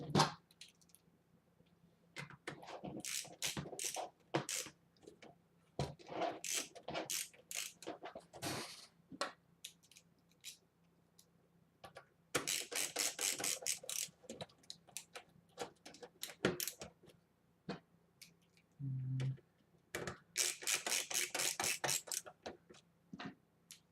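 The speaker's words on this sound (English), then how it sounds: "So let me put those 4 screws in real quick." Small screws being driven in to fasten a power supply into a desktop computer case during a refurbish, heard as quiet, irregular ticking and clicking bursts with brief pauses, fairly close and alone.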